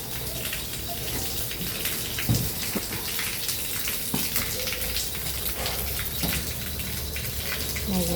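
Heavy rain pours down steadily outdoors around a tailorbird's nest, a dense, constant hiss with scattered louder drops striking nearby surfaces.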